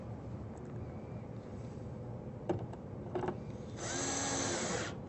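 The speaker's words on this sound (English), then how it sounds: "Screw that in place, making sure that that slide in the front is just back from the front" A power drill drives screws into a cabinet drawer slide, several short quiet whirring bursts followed by a longer run near the end, set against a faint background hum.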